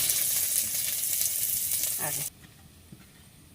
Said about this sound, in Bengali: তেল দিয়ে দিচ্ছি, একটু রসুনগুলো দিয়ে দিচ্ছি